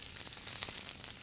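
Olive oil sizzling in a hot pan with sautéed onions and mushrooms, a faint, steady crackling hiss with a sharper pop at the end.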